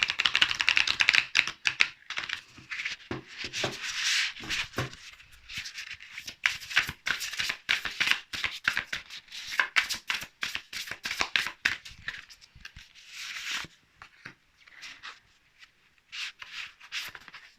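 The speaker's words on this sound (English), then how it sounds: "Let's pull some cards from the spellcasting oracle deck." Spellcasting oracle cards being shuffled and pulled, a run of soft close riffling, flicking and rubbing noises in irregular bursts, quiet throughout without talking.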